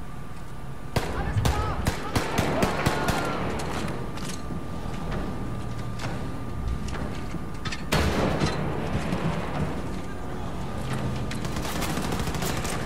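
Rapid gunfire in the Wolfenstein 2 video game, sharp shots fired in quick bursts throughout with a renewed volley partway through, over a steady game background with someone talking at times.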